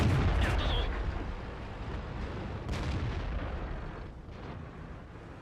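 Tank gun fire in World of Tanks, a deep booming blast at the start rolling into a long rumbling echo, with a second, fainter report midway under continuous low battlefield noise.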